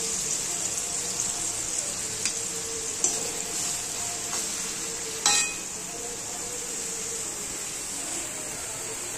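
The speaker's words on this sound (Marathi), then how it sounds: "इकडे ब्राऊन कलर होईपर्यंत कांदा भाजून द्यायचा" Onion roasting in a pan until brown, heard as a steady close sizzle and frying hiss with a few scattered utensil clinks and one brief louder scrape midway.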